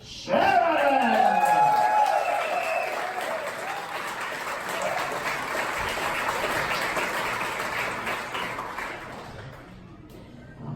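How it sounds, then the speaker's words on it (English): A comedy club audience gives a stand-up comedian a full, loud round of applause with some cheering as he takes the stage, holding steady and then fading out after about nine seconds. "Big applause there."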